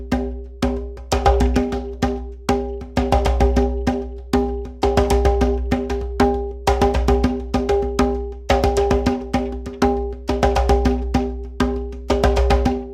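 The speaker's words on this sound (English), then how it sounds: "So the quinto part is mostly slap tones." Quinto conga in a ceremonial-style polyrhythm, played mostly as sharp slap tones mixed with some open tones, in steady repeating phrases of close, loud hand strikes with no voices.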